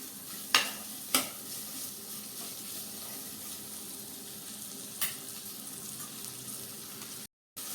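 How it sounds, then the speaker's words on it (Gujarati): Quiet sizzling of cluster beans and potatoes frying with spices in a pan, with a few sharp clanks of a spoon against metal as it is stirred. "ગુવાર અને બટેટાને મસાલા સાથે આપણે મિક્સ કરીએ"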